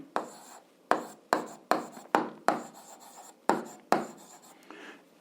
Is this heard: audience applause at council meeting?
no